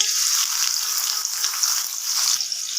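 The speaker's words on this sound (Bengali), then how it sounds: "পেঁয়াজটা আমি বাদামি কালার করে ভেজে নিব" Chopped onions fry in hot oil in a pan, giving a steady, loud, even sizzling hiss that runs without a break.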